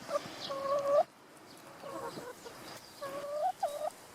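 Chickens cluck and squawk nearby in short bursts, pausing briefly between calls, over a quiet outdoor background.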